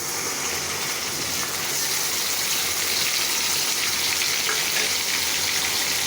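Onions and whole spices, including cardamom, fry in hot oil in a pan, giving a dense, continuous loud sizzle with no talking over it.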